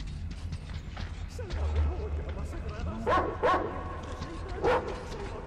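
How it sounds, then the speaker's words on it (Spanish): Dogs barking in the video game Metro Exodus, a few sharp barks and yips spaced across the stretch, mid-distance, over a low rumbling game ambience with a faint voice. "¿Saldrán estos perritos de acá? Mejor los mato, ¿ah?"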